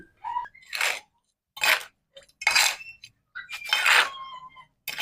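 Spice paste being worked together with water in a bowl, coming through as a series of close, wet scraping and sloshing strokes in separate bursts with short pauses between them.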